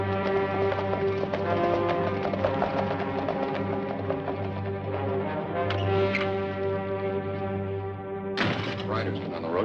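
Horses' hooves galloping along a road in a 1950s Western ranch drama, a steady rhythmic clatter under continuous orchestral score, with a loud accent near the end.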